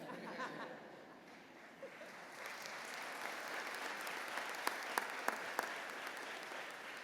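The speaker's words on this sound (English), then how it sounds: "I'll get some applause for that." Commencement crowd applauding, faint at first and swelling into a broad, steady wash of clapping with scattered laughter and a few sharp claps standing out near the end.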